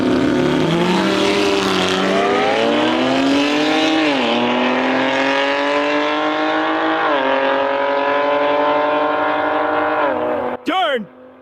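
An Audi R8 V10 and a 700 hp BMW M3 Touring race together. One engine rises in a long howling pull, with steady upshifts every few seconds, then cuts off abruptly near the end.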